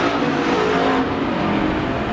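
A pure stock race car roars down the front straightaway at Central Arizona Speedway during an evening heat race, its engine loud, close and sustained.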